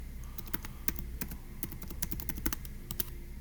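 Typing a command on a computer keyboard at a command-line prompt, with a quick, irregular run of close, crisp key clicks and a few sharper, louder strikes, alone without talk.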